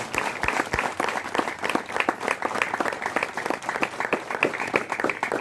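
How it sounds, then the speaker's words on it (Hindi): Audience applause at a library inauguration event in Gujarat; steady, loud crowd clapping with distinct individual claps standing out, sustained throughout without talk. "मैं चाहता हूं आप सब लोग इन सभी के लिए एक बार जोरदार तालियां"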